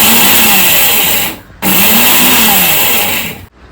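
A mixer grinder whirs loudly while grinding a spinach chutney of pulichai keerai, running in two long bursts with a brief pause between them and a sharp stop at the end.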